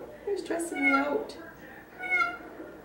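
A cat meows several times in drawn-out, plaintive cries, close by and fairly loud, with a person's voice talking over parts of it.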